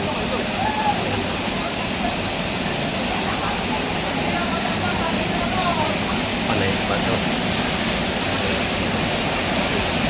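Kilangin Falls waterfall in Majayjay, Laguna, a loud, steady, close rush of falling water that never lets up, with a person talking briefly over it.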